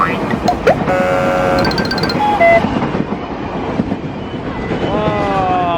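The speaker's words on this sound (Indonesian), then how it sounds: "Oh, ini ada kereta teman-teman." A KRL commuter train rumbles past at speed, a loud, broad rolling roar with brief tonal horn or signal notes, while people talk excitedly over it nearby.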